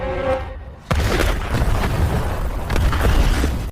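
A sudden loud boom as a pickup truck loaded with glass bottles explodes in a film, preceded by a brief tonal hum and followed by a sustained roaring, crackling blast with scattered debris impacts.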